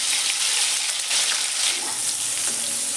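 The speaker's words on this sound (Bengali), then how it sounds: "এবার এর মধ্যে আমি বেগুনগুলো ভেজে নেবো।" Steady hissing sizzle of eggplant pieces, coated in salt and turmeric, frying in hot mustard oil, close and continuous, with a few faint clinks.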